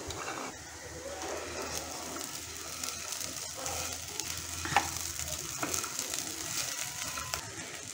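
A handful of green peas hits hot oil in a frying pan, setting off a close, busy sizzle with stirring scrapes. Faint bird cooing comes from the background.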